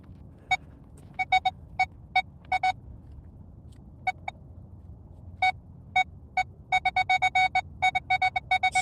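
A metal detector sounds over a buried target with short, clipped, repeated tones that break up and skip irregularly, some isolated beeps, then quicker clustered bursts against a faint low background.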